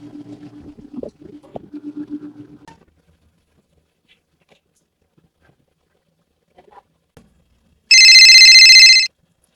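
A telephone rings once in a hotel front office, a bright electronic trill lasting about a second, loud and clear after several seconds of near silence that follows brief talk.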